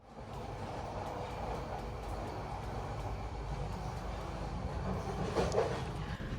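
The meter-gauge Parjatak Express runs nonstop with a steady roar and rattle of wheels on track, loud and continuous, heard from inside the carriage and swelling slightly toward the end.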